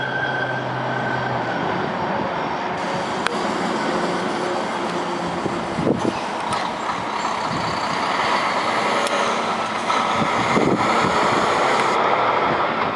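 A Peterbilt truck hauling freight train cars along a CP rail line, a steady loud rumble with rolling rail noise, metallic clanks and brake hiss throughout.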